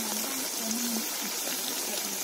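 Ivy gourd (kovakkai) frying in a pan makes a steady, dense sizzle with fine crackles throughout, close and continuous.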